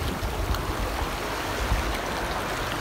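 A stream flows near a beach in Mariveles, Bataan, producing a continuous, steady rushing of water with no pauses.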